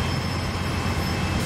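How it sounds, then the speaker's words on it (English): Train departing in Train Sim World 2, a loud continuous rumble of rolling rail wheels and engine noise, steady and close with no voices. "See you later, train. I'm leaving."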